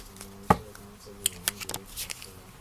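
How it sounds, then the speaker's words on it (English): A deck of oracle cards, similar in size to a Rider-Waite-Smith deck, gets shuffled by hand in a few quick, crisp riffles and slaps, close and fairly quiet, with no talking. "You can shuffle them any way that you want."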